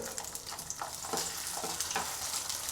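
Paneer pieces fry in oil in a pan, a close, steady crackling sizzle with occasional soft scraping, continuous and without talk.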